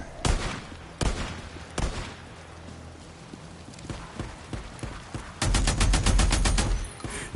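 Gunfire in Days Gone: several separate loud gunshots spaced about a second apart, then a short burst of rapid automatic fire near the end, over quieter background game noise.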